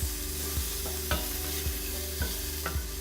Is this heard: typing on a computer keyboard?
no